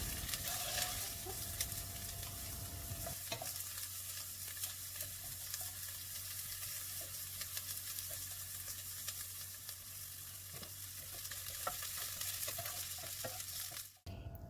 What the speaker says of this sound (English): So I'm now ready to put the chopped up broccoli stems. Let it fry until you know that it is a little bit softer.